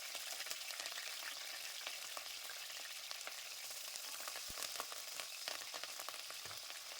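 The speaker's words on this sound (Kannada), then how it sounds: "ಬೆಳ್ಳುಳ್ಳಿ ಸ್ವಲ್ಪ ಫ್ರೈ ಮಾಡ್ಕೊಳ್ಳೋಣ." Crushed garlic and curry leaves fry in hot oil for onion chutney, giving a steady, dense crackling sizzle throughout with a few sharper pops, close and continuous, no voices.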